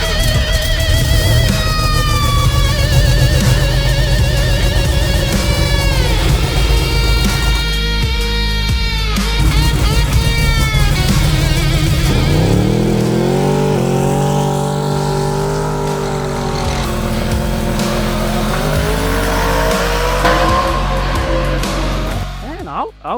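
A 1969 Yenko Pro Mod race car's engine roars loudly and steadily while warming up and testing, with rising and falling revs, alongside voices talking.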